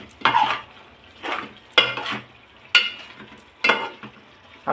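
Rhythmic scraping of a spoon against a pot while chicken curry is stirred, about five firm strokes roughly a second apart over a faint sizzle, close and clear.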